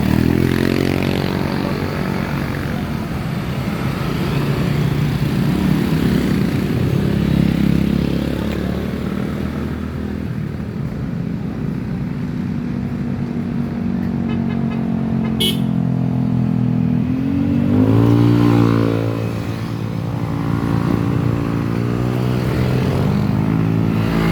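A motor vehicle engine drones loudly and steadily, its pitch climbing as it speeds up, with a second rising surge near the end.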